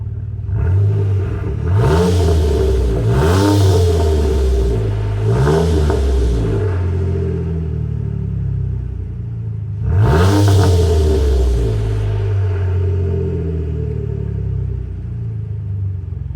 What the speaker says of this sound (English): This here's the Flowmaster axle back system. It's the Flowmaster Outlaw. Full stainless steel exhaust